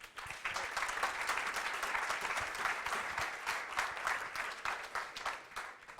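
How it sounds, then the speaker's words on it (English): A breakfast audience at a Wichita startup pitch event gives a round of applause, dense even clapping that holds steady for several seconds before tapering off. "Round of applause for this."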